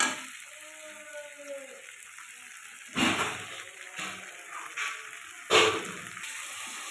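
Water is poured into a pan of pumpkin and paneer curry in a few short splashing bursts, close and fairly loud over a quiet kitchen background.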